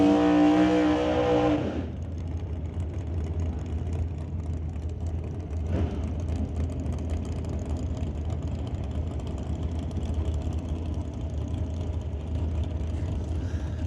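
Drag racing cars, including a dragster and a Chevelle, at an outlaw shootout: a loud, rising engine roar cuts off sharply after about two seconds and gives way to a steady, more distant rumble that continues to the end.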